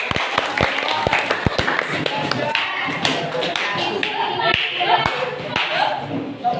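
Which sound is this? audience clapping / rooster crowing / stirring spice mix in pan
audience clapping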